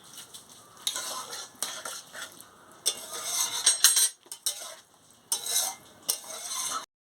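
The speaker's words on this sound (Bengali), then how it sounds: "আমি সামান্য জল দিয়ে দিচ্ছি। একটু ভালো করে ফুটে যাক।" Water goes into a pan of simmering papaya ghonto curry, bringing bursts of hissing sizzle and spoon-scraping stirring that come and go in short, close, fairly quiet waves.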